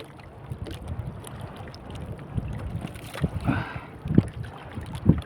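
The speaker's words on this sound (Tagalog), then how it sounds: "lumalakas talagang hangin mga idol pag patanghali" Steady wind buffets the microphone on a small boat at sea during traditional handline fishing in the Philippines, a continuous rushing roar with occasional knocks and faint splashes.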